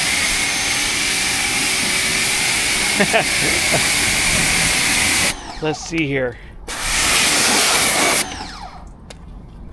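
Ryobi 1200 pressure washer spraying water in a loud continuous hiss outdoors, cut by brief pauses and restarts, while someone talks briefly.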